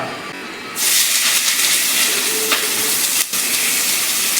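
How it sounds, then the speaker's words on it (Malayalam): Sudden loud sizzle as onions hit hot oil, then a continuous strong hiss of frying that carries on steadily. "ഇനി ഇതിലേക്ക് സവാള ചേർക്കാം നമുക്ക് സവാള"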